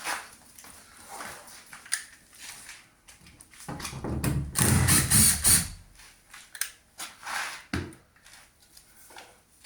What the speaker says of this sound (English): Take that screw out.